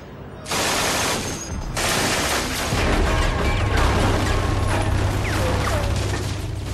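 An MG-42 machine gun fires in long, extremely rapid bursts, shots blurring into a harsh tearing roar, with a brief pause early on and mechanical clatter.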